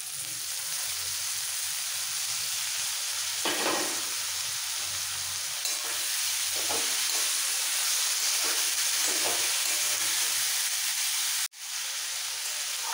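Bitter gourd and pumpkin slices fry in a pan over low to medium flame, a steady broad sizzle and hiss running throughout with occasional soft stirring scrapes and one sharp click near the end.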